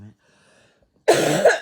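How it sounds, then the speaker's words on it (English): A single harsh cough bursts out loud and close after a moment of near silence, with a brief second push at its tail. "I have to cough again"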